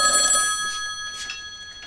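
An old 1990s-style telephone rings with a bright electronic trill, loud at first and then quieter as it continues over a faint background.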